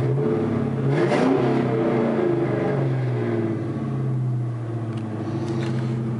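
2002 Ford Mustang fitted with a Flowmaster exhaust, revved and heard from inside with the windows up: a loud, deep rumble that swells early, then settles into a steady drone.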